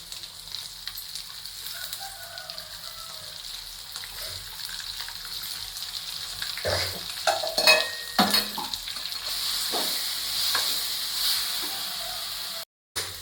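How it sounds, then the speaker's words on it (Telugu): Tamarind paste and coriander paste frying in a pan, stirred, for coriander rice: a steady, moderately close sizzle with scraping stir strokes that thicken midway, running throughout with no talk. "ఇప్పుడు మిక్సీ పట్టుకున్న చింతపండు పేస్టు, కొత్తిమీర పేస్ట్ వేసి కాసేపు వేగనిద్దాం."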